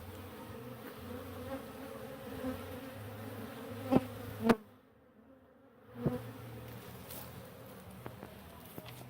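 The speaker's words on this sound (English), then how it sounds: "Again, we got a lot of these bees." Bees buzz steadily around a hive entrance on an evening check, a soft constant drone with a few faint taps and one brief near-silent gap.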